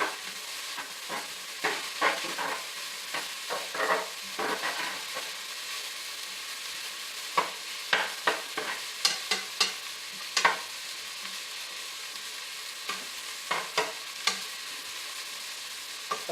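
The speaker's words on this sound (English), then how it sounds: "we've got some turkey bacon that I'm going to go ahead and add in now" Turkey bacon sizzles and fries in a pot, with scattered clinks and scrapes from stirring over a steady low crackle; fairly quiet and close, no talking.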